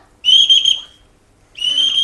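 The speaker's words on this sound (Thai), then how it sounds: "ว้ายใครมาเป่านกหวีดแถวนี้" Two sharp, shrill whistle blasts, the first lasting about half a second and the second starting after a short pause, both loud and close with no talk.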